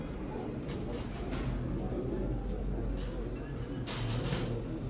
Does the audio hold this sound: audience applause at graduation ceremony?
no